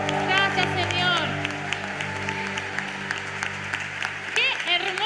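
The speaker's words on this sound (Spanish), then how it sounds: "te damos un fuerte aplauso" Applause rises from a congregation at a women's church celebration, clapping running under sustained music and singing for several seconds with a few louder bursts.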